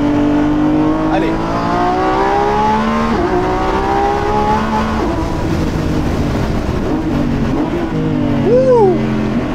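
Lamborghini Revuelto with its 1015 hp V12 hybrid powertrain, accelerating hard out of corners on a road test: a loud, close engine note climbing in pitch through rising sweeps and gear changes, continuous and dominant.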